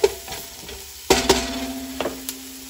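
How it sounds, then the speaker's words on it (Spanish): Chopped half onion sautés over low heat for a Salvadoran seafood stew, with a soft, low sizzle. A spoon gives several clinking stirs and scrapes against the pan. "media cebolla picadita. Dejamos sofreír por 1 minuto a fuego bajo."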